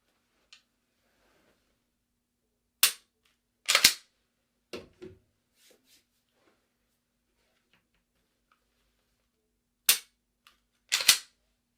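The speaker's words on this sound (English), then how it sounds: "once that pistol recoils, you come up, you come right back down. Then you can take that follow-up shot." Pistol shots fired at targets, sharp cracks spaced out in quick pairs and singles over a quiet background, fairly distant, with no talking.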